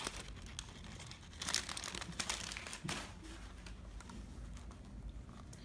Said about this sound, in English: it comes with this kind of paper